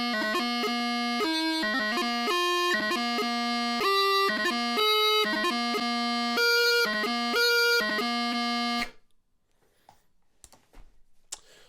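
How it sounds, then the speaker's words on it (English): A bagpipe practice chanter plays a series of reedy notes, each broken by quick taorluath grace-note embellishments, followed by a few seconds of quiet with faint clicks. "So that kind of is Taorluaths."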